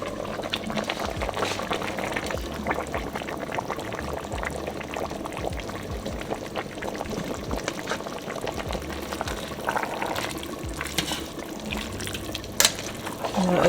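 A pot of collard greens with meat simmers on the stove, giving a soft, continuous bubbling and gentle liquid churning that stays low and even throughout, with no other sounds breaking in.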